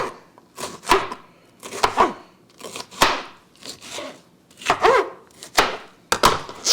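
A knife chops through a bell pepper on a cutting board for a black bean and corn salad, giving a steady series of crisp, close thuds and crunches about every half second.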